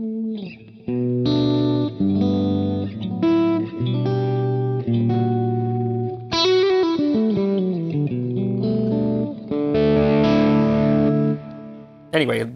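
Single-coil electric guitar through a Crate PowerBlock amp at maximum gain, naturally breaking up, plays chords and riffs with a gritty, lightly distorted edge, phrases separated by short pauses and ringing sustain.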